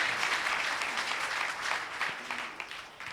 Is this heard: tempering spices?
no